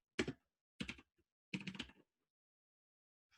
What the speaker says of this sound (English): Oh, typing is hard.